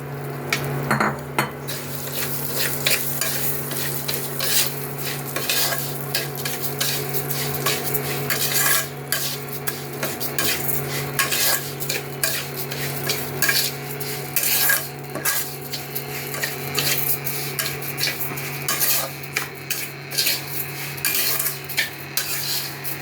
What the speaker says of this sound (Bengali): আমি এখন এই চালটা, গোবিন্দভোগ চালটা ভেজে নেবো এই তেলের মধ্যে।